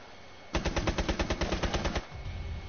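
Automatic gunfire from the video game Rainbow Six Siege, a rapid burst of about fifteen evenly spaced shots lasting roughly a second and a half, loud and close, followed by low background rumble.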